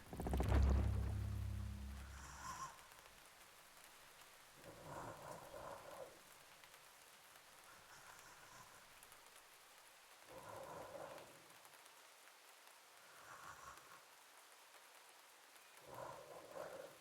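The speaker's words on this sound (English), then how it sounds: "Sounds like rain." Rain and thunder in the horror video game Mouthwashing: a faint, steady hiss of rainfall opens with a deep thunder rumble, then soft swells of storm noise rise and fall at intervals.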